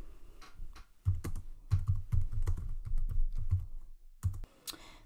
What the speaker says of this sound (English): If we type the equal sign